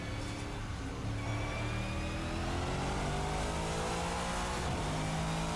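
A Race Sim Studio GT-M Lux V8 race car in Assetto Corsa, its engine accelerating with a loud, dense roar that climbs steadily in pitch through the gears, continuous and close.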